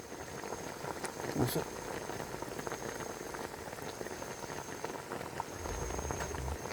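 Corn boiling in a pot outdoors beside a river, a steady close bubbling and rolling simmer throughout, with a brief clatter near the start and a deeper rumble toward the end.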